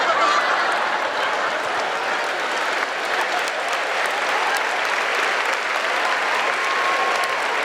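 An audience at a church sermon breaks into sustained applause, a steady, full wash of clapping that stays level for several seconds without speech over it.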